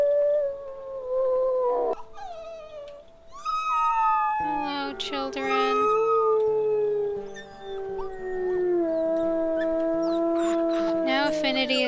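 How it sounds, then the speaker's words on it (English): Wolf howls in the WolfQuest video game: long, rising and falling tonal howls overlapping in layered chorus, loud and near, with a short spoken greeting early on. "Like one howl."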